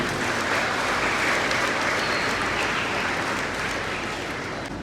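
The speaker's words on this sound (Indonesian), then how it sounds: "Hadirin kembali memberikan tepuk tangan yang meriah" Dense, sustained applause from a large crowd at an Islamic boarding school event in Ciamis fills the whole stretch, steady and loud, fading only slightly toward the end.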